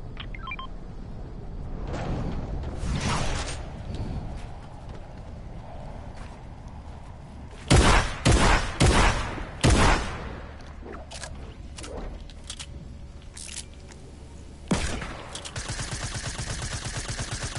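Rapid bursts of video game gunfire crack out in a dense cluster midway, with scattered single shots and clicks before and after over steady game ambience.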